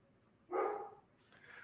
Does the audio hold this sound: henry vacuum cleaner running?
no